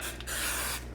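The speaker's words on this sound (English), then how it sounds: "Give a little spray" A short hiss of aerosol cooking spray onto a cake pan, close and steady, with a brief break partway before a longer burst.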